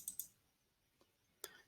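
Computer mouse clicks while working in CoCo process simulator software, a couple of quick faint clicks near the start and another sharp click later, close and quiet with no talking.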